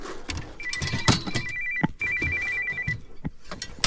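A phone rings outdoors during a crappie fishing trip, giving a repeated electronic ringtone in two bursts, fairly close, amid scattered knocks and handling noise.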